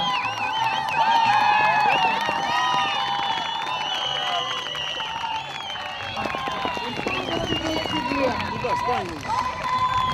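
Outdoor crowd at a village horse riding competition clapping and cheering, a broad continuous wash of applause with whoops, while an announcer talks over it through a loudspeaker.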